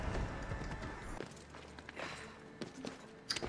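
Horse hooves clip-clop at a steady gait in the Assassin's Creed Odyssey video game, a moderate rhythmic patter mixed with ambient game sound at low overall level.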